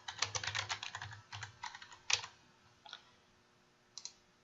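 Computer keyboard typing while a class name is entered into an online classroom tool: quick bursts of close key clicks, pausing briefly, then a few scattered taps trailing off toward the end, with no talking.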